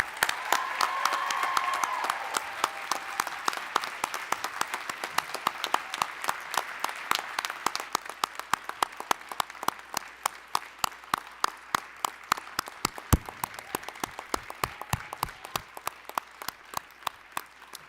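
The 2021 graduating class at a Grand Rapids Community College workforce development commencement bursts into loud, dense applause that gradually thins into scattered individual claps, heard fairly close in a large hall.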